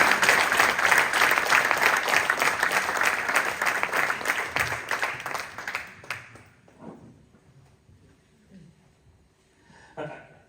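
Loud, dense applause from a crowd at a municipal council installation meeting fills the first six seconds, then quickly dies away into near silence, with a brief faint burst near the end.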